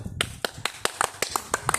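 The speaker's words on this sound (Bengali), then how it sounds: "তো সবাই হাততালি দাও" A small group claps to reward a prize winner at a fun tickling game, giving about a dozen sharp, fairly even claps over a couple of seconds that come close together near the end.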